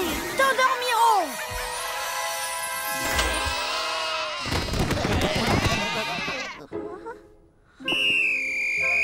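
Cartoon sheep bleat in wavering, exaggerated calls, several in a row, mixed with cartoon sound effects and a short near-silent gap before a high, sustained tone, with voices talking in places.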